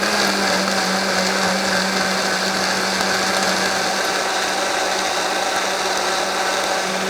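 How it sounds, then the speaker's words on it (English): A food processor whirring on just-cooked eggs, running as a constant, steady motor drone with a low hum and a busy mechanical buzz, nearby and alone without talk. "My eggs have just barely cooked through, so I'm going to take them to the food processor."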